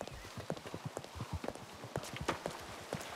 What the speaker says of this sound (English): That sounds like a horse going at a player's pace.